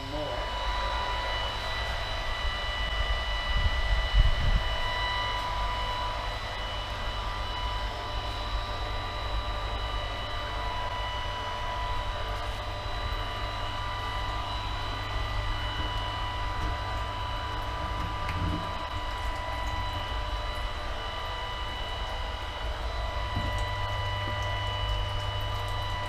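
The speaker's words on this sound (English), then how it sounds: "So we're going to let this pump through until I can pump no more." A pump transfers free-run wine juice during racking, a steady low mechanical hum and drone running continuously at moderate level, with faint liquid movement and a brief louder bump early on.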